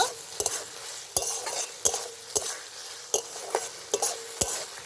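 Green tomatoes and small puti fish sauté in a pan, a soft steady sizzle broken by regular sharp scrapes and clacks of a spatula stirring, close by and with no talking.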